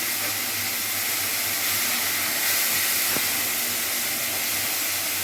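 Steady, loud sizzling of rohu fish frying in oil in a pan for a Bengali fish kalia, a continuous hiss with no break or speech.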